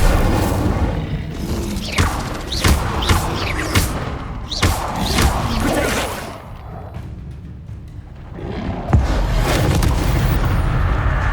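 In Hogwarts Legacy, an Incendio fire spell is cast amid several heavy booming blasts and thuds, separated by a few seconds, over a dense, rumbling game soundscape.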